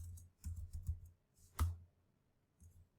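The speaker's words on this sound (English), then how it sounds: "Am I typing that right?" Several quick keystrokes typed on a computer keyboard, ending in a louder single key tap, close and fairly quiet with no speech.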